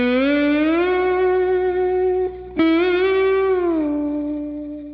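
Slide guitar plays the first solo from a song at a slow tempo, with long sustained notes gliding up and down and a brief break midway, loud, close and alone.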